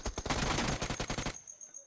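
A rapid burst of UMP submachine gun fire in the Free Fire mobile game, close and dense for over a second before cutting off abruptly.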